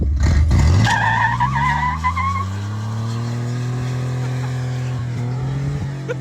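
A 1991 Chevy C1500 pickup with a five-speed manual does a burnout: a loud, close tire squeal breaks out over the revving engine, then settles into a long, sustained screech that holds steady to the end.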